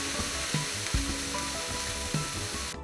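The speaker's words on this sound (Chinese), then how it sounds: "把80克洋葱碎倒进去，把肉馅儿倒进去，快速的将这2样炒熟" Chopped onion and pork mince are stir-fried in a hot pan. A loud, steady sizzle runs throughout, broken by a few scraping thumps as the spatula stirs.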